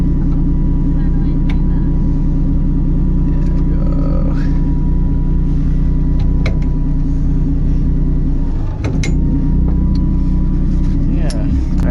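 A 2JZ-engined Nissan 240SX drift car running, with a loud, steady low engine rumble throughout and people talking nearby over it.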